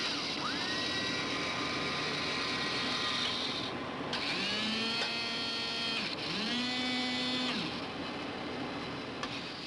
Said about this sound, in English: This device, one of several designs for an automated biological laboratory, scoops up samples of the Death Valley floor.